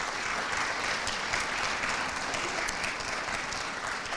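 An audience claps at an anniversary celebration awards ceremony, a dense, even, sustained applause that carries on at moderate loudness with no voices over it.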